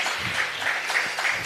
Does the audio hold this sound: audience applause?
yes